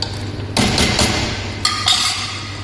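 A metal lid clinks and clatters onto a pot of green bean curry cooking in an Indian kitchen, two close bursts of rattling contact about a second apart over a steady stove hum.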